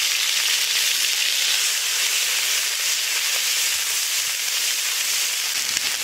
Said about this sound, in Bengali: ভালো করে নেড়ে নিয়ে কয়েকটি পেঁয়াজ দিচ্ছি।